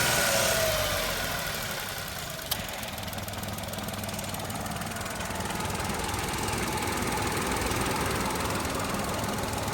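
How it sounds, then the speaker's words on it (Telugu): A 2019 Tata Nexon XM with the 1.2-litre petrol engine runs at a steady idle, a continuous, even mid-pitched hum close by with one brief click, and no talking over it. "ऐसे ऑन कर रेस."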